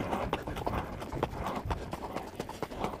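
Horse hooves clip-clopping in a steady rhythm as the horse is ridden around a curve, fairly close, with soft thuds on each stride and a voice faintly underneath.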